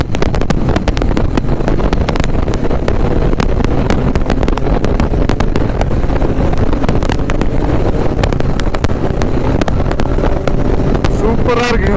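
Triumph Daytona 675 inline-three sports motorcycle with an Akrapovic exhaust at a superbike meet, its engine roaring loud and steady throughout amid wind buffeting and crowd noise.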